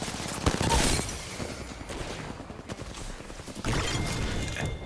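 Rapid gunfire from the Apex Legends video game, with repeated bursts and shots that crash out loud and close throughout, overlapping into dense volleys with only brief lulls.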